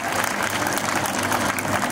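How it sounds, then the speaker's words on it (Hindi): An audience at a 15 August celebration applauds the achievements of local daughters: a dense, steady wash of many hands clapping at an even level for about two seconds, with no voice on top. "तो इन सब के लिए तालियां।"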